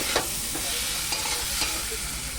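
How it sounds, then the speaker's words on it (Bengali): Fried masala for a traditional fish and elephant foot yam curry sizzles in a pan after water is added, a steady close hiss broken by a few soft stirring scrapes, with no talking. "এবার বেশি জল লাগবে না পরিমাণ মতো জল দিয়ে দিলাম"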